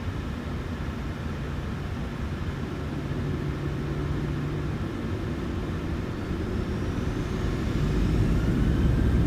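Boeing 737 jet engines spooling to takeoff thrust in a flight simulator game, a dense, steady roar and rumble that builds slightly toward the end, continuous with no talk.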